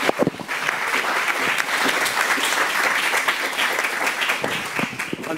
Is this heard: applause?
yes